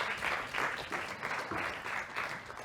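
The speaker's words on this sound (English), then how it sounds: "we'll give you a round of applause just by coming up to the stage" An audience at a live conference session on the Sustainable Development Goals applauds as panelists walk onto the stage: a steady, fairly faint wash of many hands clapping, with no talking over it.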